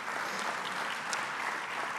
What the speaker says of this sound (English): that one deserves a round of applause